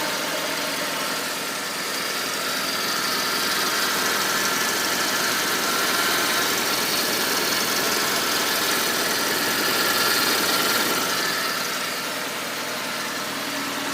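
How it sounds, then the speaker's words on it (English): A Honda Civic Aerodeck with a D15 engine and a noisy alternator runs at a steady idle, heard close up as an even, continuous hum with faint mechanical chatter and no talking. "from this side of the engine it just sounds like a normal running engine"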